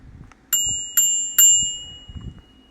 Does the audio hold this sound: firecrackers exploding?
no